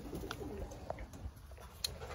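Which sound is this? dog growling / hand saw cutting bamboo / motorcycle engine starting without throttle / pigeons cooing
pigeons cooing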